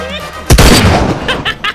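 A single loud gunshot bursts out from a gun in a film scene, a sharp boom that rings briefly before fading, with a few short sounds following.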